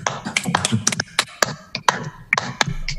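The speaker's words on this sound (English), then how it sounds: "Let's give them a round of applause." A small audience at a city council meeting gives a sparse round of applause, with scattered individual claps landing irregularly and fairly close for about three seconds.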